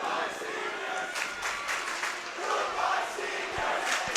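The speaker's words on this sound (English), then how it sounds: "the Marshfield crowd saying goodbye to the Needham seniors" A home crowd at a varsity boys hockey game chants a farewell to the opposing team's seniors, with rhythmic massed voices and scattered claps echoing through the rink at moderate distance, steady over the whole stretch.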